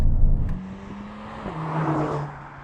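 A Mercedes-AMG A45 engine hums and shifts pitch, dropping then rising as it revs, fairly close and steady throughout.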